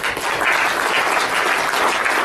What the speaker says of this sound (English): So a round of applause for FICCI.